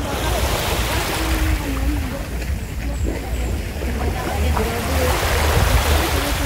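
Sea surf rolls steadily onto the beach at Playa La Caleta, a continuous wash of breaking waves mixed with wind buffeting the microphone and faint voices in the background.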